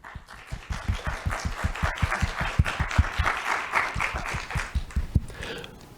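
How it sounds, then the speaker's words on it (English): Audience applause at a faculty book talk, a dense run of clapping that swells and stays steady for several seconds, fairly close and filling the room with no voices over it. "Please, a round of applause for our panel."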